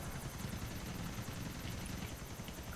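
Helicopter in the video game GTA IV, a steady rotor whir with rhythmic low chopping and an engine drone, holding constant and fairly close throughout with no talk over it.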